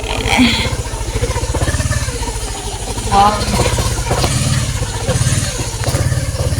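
A motorcycle engine idles steadily with a low, even rumble throughout, close by, while people talk over it outdoors.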